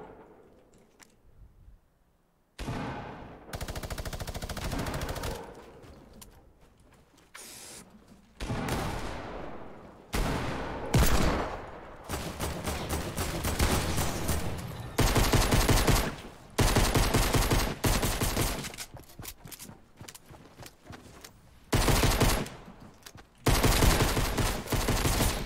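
Bursts of gunfire in a video game, including a pump shotgun, come in repeated loud volleys and rapid automatic strings separated by short quiet gaps, with no talking.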